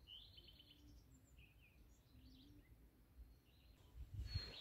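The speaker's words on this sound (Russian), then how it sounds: "Поют птицы, слышите?" Several birds sing and chirp in the far distance through a light northern white night, with faint scattered calls over quiet ambient background and a brief louder rustle near the end.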